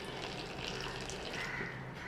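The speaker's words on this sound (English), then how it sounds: "I am adding water to this" Water being poured into wheat and rice flour dosa batter in a home kitchen, a soft steady trickle and splash that runs continuously and quietly throughout.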